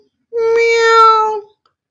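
A single drawn-out, tonal meow lasting about a second, most likely a human voice imitating a cat in a children's animal story. It is clear and close, with no other sound around it.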